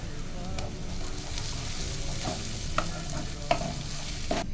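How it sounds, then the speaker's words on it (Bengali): Spices and grated ginger fry in a pan for a home-cooked biryani, giving a steady close sizzle with a few sharp stirring clicks throughout. "ওইদিকে ওই মশলাটা কতক্ষণ ভাজা হোক"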